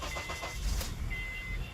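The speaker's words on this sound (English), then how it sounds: "it starts the car without any problems" A Honda Accord started with a newly programmed key: a brief whirring crank followed by a low engine rumble catching, close and moderately loud, with no talk.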